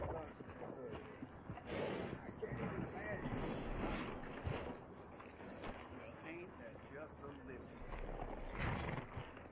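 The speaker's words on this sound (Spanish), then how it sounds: "Vale, vamos a dejar aquí el caballo." Horse hooves clip-clop in Red Dead Redemption 2 at Clemens Point, a steady plodding rhythm under crickets chirping, with someone talking over the hoofbeats.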